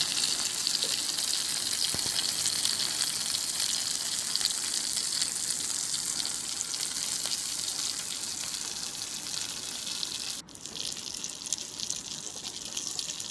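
Fish coated in masala fries in a pan with a loud, steady hiss of sizzling oil that runs continuously and briefly dips near the end before resuming.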